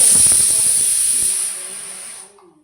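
A loud, sharp hiss of steam escaping from a pressure cooker whistle while cooking taro curry, close by, gradually fading over a few seconds.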